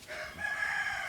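A chicken on a farm gives a single short crow-like call, faint and somewhat distant, lasting about a second.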